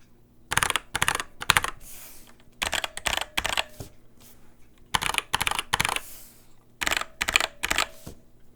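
Typing on an NK65 mechanical keyboard fitted with thick keycaps, close-up bursts of rapid clacky keystrokes in several runs separated by short pauses, over a faint steady hum.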